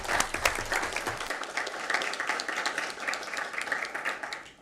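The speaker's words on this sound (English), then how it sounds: "Let's have them stand and give them a round of applause." An audience at a school board meeting claps loudly for honored parents, a dense burst of applause that runs the whole time and begins to thin toward the end.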